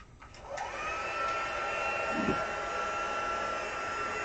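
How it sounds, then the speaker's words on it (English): A craft heat tool switches on and blows steadily, heat-setting pigment powder on cardstock: a loud, constant whirring hiss held close for several seconds after a brief start-up. "before I turn on my heat tool"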